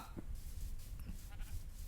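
A black goat bleats faintly in a survival game, giving short, wavering calls against a busy, noisy ambient background over about two seconds.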